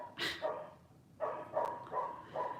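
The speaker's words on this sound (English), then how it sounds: "can you guys hear my dog?" A loud dog barks indoors behind closed doors, giving a sharp opening bark followed by four evenly spaced, moderately loud barks with no talking over them.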